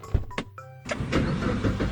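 Vehicle engine starting in the Minecraft video game: a couple of clicks and a short whine, then the engine catches and settles into a steady close idle rumble.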